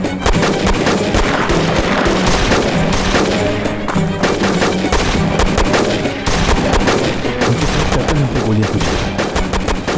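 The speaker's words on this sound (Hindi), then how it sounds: "उन्होंने हम पर गोलियां चलाना शुरू कर दी" Loud, dense bursts of gunfire crackle continuously, rapid shots overlapping like an intense firefight close by.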